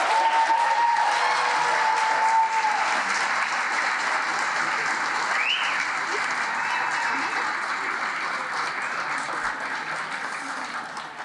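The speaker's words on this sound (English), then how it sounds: "Let's give one last round of applause for the new inductees." A school auditorium crowd claps for new National Junior Honor Society inductees at an induction ceremony, a steady, continuous round of applause that slowly fades near the end, with faint tonal sounds mixed in.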